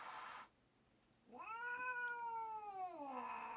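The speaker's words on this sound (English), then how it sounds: "if you heard that, that's a cat growling" A cat's drawn-out vocalization, rising then falling in pitch, close and fairly quiet, preceded by a short burst of noise and a brief silence.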